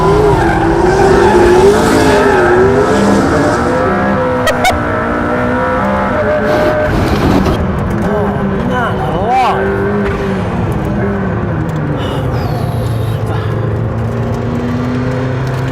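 McLaren P1 drifting with a loud, sustained tire squeal that wavers in pitch over a roaring, revving engine, close and continuous throughout, with sharp throttle blips and bangs mixed in.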